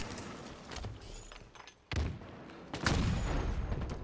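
Gunfire from a competitive multiplayer video game match with sniper rifles: a few sharp, booming shots over a busy game soundscape, with two louder reports near the middle and end.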